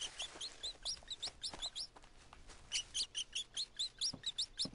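Jungle birds in the survival game Green Hell call in repeated quick chirping bursts, several overlapping voices rising and falling in short rhythmic phrases, fairly close and lively, with no talking over them.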